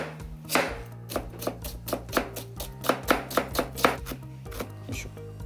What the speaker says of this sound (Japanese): まずみじん切りですね。